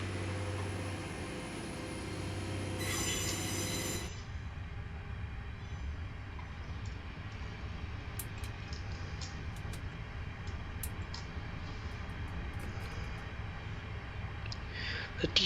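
A GWR IET train pulls away under diesel power, a steady low engine drone with a brief louder burst near the start, then a continuous rumbling roar with faint clicks and rattles, heard close from the cab.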